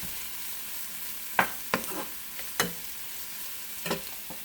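Red onions frying in olive oil in a pot sizzle softly while a spoon stirs them, making several distinct scraping clacks at uneven intervals.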